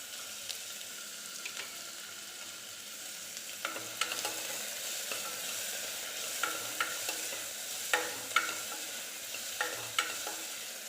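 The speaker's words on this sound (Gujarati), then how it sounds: "બધી વસ્તુને મિક્સ કરી લઈએ અને હવે એમાં એડ કરીશું વટાણા." Chopped capsicum, onion, tomato, carrot and peas are stirred in a pan over a soft, quiet sizzle, with scattered sharp taps and scrapes of a spoon against the pan.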